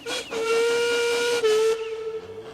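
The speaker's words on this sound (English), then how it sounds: "This time, Duncan whistled as loud and as long as he could." A steam locomotive's whistle gives a short toot, then blows loud and long in a shrill, steady shriek for well over a second before cutting off.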